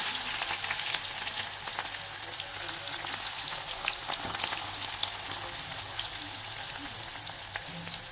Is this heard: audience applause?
no